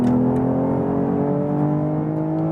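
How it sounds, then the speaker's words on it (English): A 2022 BMW M440i Gran Coupé six-cylinder engine revs hard and steadily under acceleration in sport mode, a loud, continuous mechanical roar with a rich, layered tone and no talking. "great sound from the 6-cylinder."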